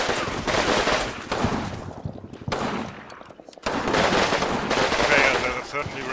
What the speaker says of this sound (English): now they're firing